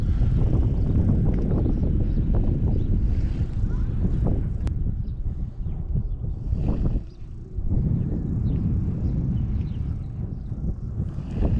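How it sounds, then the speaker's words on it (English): Strong gusty wind buffets the microphone outdoors by the water during early spring bass fishing, a loud continuous roar with brief lulls, heard alone without talk. "The wind has picked up a little bit."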